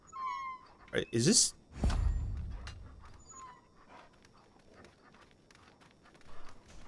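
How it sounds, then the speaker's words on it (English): Dogs in the Far Cry New Dawn video game let out a short burst of whining, barking noise early on, heard over game ambience while someone talks through much of the moment. "obviously these dogs aren't attacking me"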